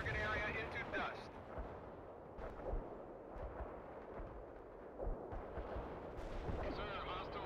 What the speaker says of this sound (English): Airstrike turned target area into dust.